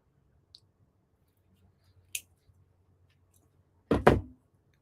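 Scissors snip through craft material for a home decor project: a few faint clicks early on, then one sharp, close double-snap cut near the end in a quiet room.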